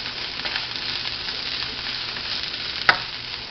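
Cabbage and shrimp noodles sizzle in a hot pan, caramelizing with a pinch of sugar, as a soft steady hiss runs under gentle tossing and one sharp clink of a utensil near the end.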